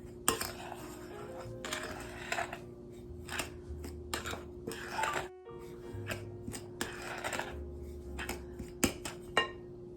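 Dry flour, sugar and salt being stirred together for a pecan bar crust, with steady scraping and clinking of a utensil against a bowl, busy and close, with short bursts and brief pauses and no talking.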